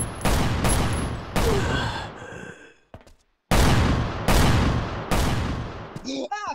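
Gunfire in the mobile survival game Last Island of Survival comes as loud repeated bursts of shots with a short silent gap midway, and a voice is briefly heard at the end.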